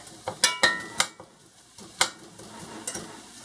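Semi-thawed ground beef broken up and chopped in a hot pan for stroganoff: sharp scraping and tapping strikes of a utensil against the pan over a steady soft sizzle, close, with no talk.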